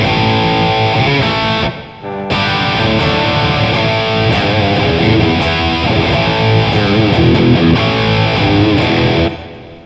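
A 1983/84 Kramer Focus 3000 electric guitar plays loud and distorted, a busy run of notes and chords, with a brief gap near the start before resuming.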